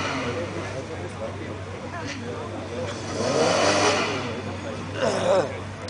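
A VW Golf II VR6 and a Golf IV 1.9 TDI 4Motion race side by side on an airfield drag strip, engines revving and surging up under a commentator's steady talk.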